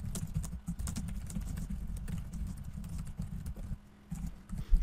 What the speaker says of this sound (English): Type it in, press send